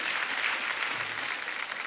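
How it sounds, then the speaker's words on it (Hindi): A studio audience at a television comedy show gives the guests loud, dense applause that stays steady and continuous throughout, with no talking. "एक बार जोरदार तालियां हमारे मेहमानों के लिए।"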